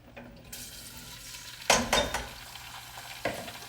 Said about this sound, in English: Okay, it's starting to sizzle.